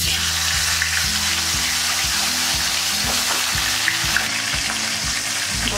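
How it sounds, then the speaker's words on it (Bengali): Fish heads fry in hot oil for a Bengali fish head curry, a loud, close, continuous sizzle and crackle with small pops throughout. "মাথাগুলো একটা একটা করে ভেজে নেব।"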